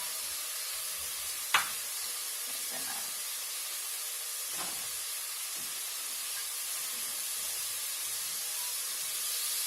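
Butter melts in a hot pan with a soft, steady sizzle and hiss, a quiet continuous frying sound broken by a couple of faint clinks.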